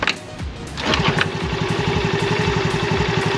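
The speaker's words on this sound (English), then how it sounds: "You can just have the key on the on position and give your bike a swift kick" Honda Navi mini motorcycle kickstarted with a quick kick, catching into a steady, close single-cylinder idle with an even putter that runs on without a break.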